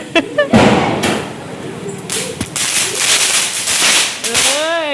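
A firecracker bursts with a sharp crack, followed by scattered pops and bangs among excited voices, ending with a rising whistle.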